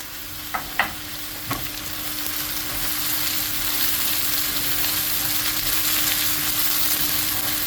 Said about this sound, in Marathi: हें बरें भाजून घेवपाचें.